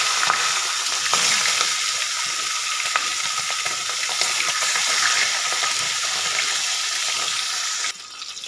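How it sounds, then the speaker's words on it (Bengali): Fish heads fry in hot mustard oil for a Bengali gourd curry, a loud, continuous crackling sizzle with occasional pops, dropping abruptly to a quieter hiss near the end. "এবার এতে মাছের মাথাগুলোকে আমি খুব ভালো করে ভেজে নেব"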